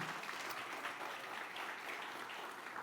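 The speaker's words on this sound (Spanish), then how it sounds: "dele un aplauso fuerte a Jesucristo" Church congregation clapping together in a strong round of applause, a faint, distant, continuous patter of many hands that holds evenly for a few seconds.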